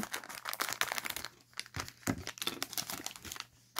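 A Toy Story 4 booster pack cut open with small scissors, its foil wrapper crinkling and tearing in quick, close rustles and snips, fairly quiet and with no talking.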